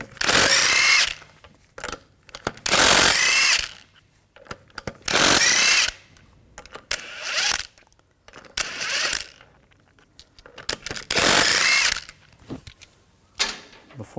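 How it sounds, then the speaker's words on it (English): Lug bolts come off a Volkswagen GTI wheel with a power tool and 17mm socket, heard as about six loud, close whirring bursts with short mechanical rattles and quiet gaps between them. "We're going to take the lug bolts off. I'm going to use a 17mm socket"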